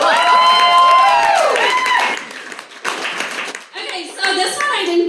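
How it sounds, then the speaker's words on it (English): Clapping and cheering from a small group, with children's voices mixed in, loud at first then settling into scattered claps and chatter. "Round of applause for the last sign."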